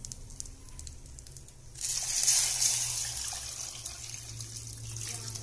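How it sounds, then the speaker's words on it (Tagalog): Water pours steadily and loudly, splashing into a cooking pot with native chicken for balbacua for several seconds after a brief quiet start. "At lagyan natin ng tubig."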